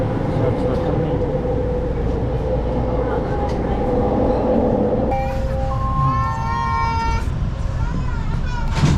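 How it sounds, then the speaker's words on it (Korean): A subway train rumbles along in Vancouver, a loud steady roar that gives way to rising electric motor whine as it pulls away; no talk. "지하철 탑니다."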